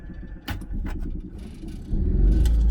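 A petrol generator cranks with its choke engaged, several short mechanical bursts and clatter, then the engine catches and settles into a loud, steady low rumble close by.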